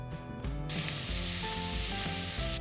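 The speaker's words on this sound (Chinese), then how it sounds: "再下瓜鸡翻炒，接着是冬笋和姜蓉" Pickled melon and guinea fowl sizzle hard in a hot wok, a loud, close hiss of stir-frying with scraping tosses of the spatula and no voices.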